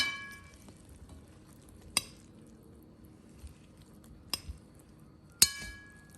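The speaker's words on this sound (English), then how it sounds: "Now I've added the cucumbers and I'm gonna mix those a little" Pasta salad with cherry tomatoes and cucumbers being mixed in a glass bowl: a few sparse, bright clinks of a utensil against the glass over a quiet background, spaced apart with soft stirring between.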